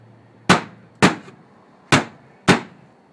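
Four sharp hammer blows ring out close by, spaced roughly half a second apart. Each hit is a bright metallic crack that decays quickly, with quiet gaps between strikes.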